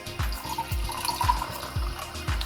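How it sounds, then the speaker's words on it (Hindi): Hot water from a kettle is poured into a cup in a gentle continuous trickle, with soft thumping pulses repeating underneath. "I pour around 3/4 of the cup water"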